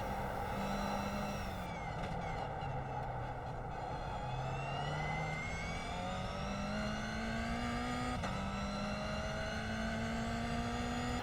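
A Toyota GR86 race car engine whines continuously at Long Beach in the iRacing sim, its pitch sliding down and climbing back up through gear changes, steady and loud with no talk.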